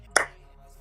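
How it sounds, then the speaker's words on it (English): A single clap, one sharp crisp snap near the microphone, followed by quiet. "The council awards you one singular slow clap."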